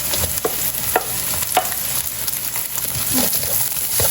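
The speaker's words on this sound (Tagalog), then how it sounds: "Magigisa na po tayo ng mga bawang at sibuyas." Garlic and onions sautéing in a pan, a continuous bright sizzle punctuated by a few sharp clinks and scrapes of a spatula stirring, close and moderately loud.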